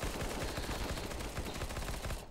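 In a video game, AK rifle fire comes as a rapid, sustained automatic burst, loud and dense, with no talking over it.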